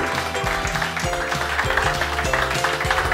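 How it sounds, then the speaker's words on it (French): Steady applause from a crowd at a retrogaming competition continues over rhythmic music with a thumping beat. "on applaudit Francesca André, bravo Bravo"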